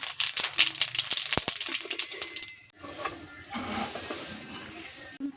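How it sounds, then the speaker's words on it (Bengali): Cumin seeds frying in hot oil in a pan: a burst of sharp crackles and pops, then a steadier, softer sizzle, close by with no talking. "এখন আমি দিয়ে দেবো জিরে জিরেটা লাল লাল করে ভাজা করে"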